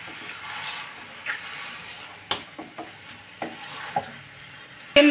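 Chicken pieces frying in a pan for a Bengali mustard-sauce dish, with a soft steady sizzle broken by several scraping stirs of a spatula, close by and with no talk.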